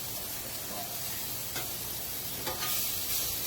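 Mushrooms and onions sizzling on a Blackstone griddle: a steady, dense hiss with occasional faint scrapes from stirring.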